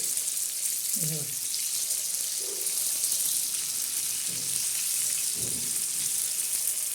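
Fish fries in a pan, a steady bright sizzle and crackle running throughout, with a voice talking briefly in a few short bursts over it.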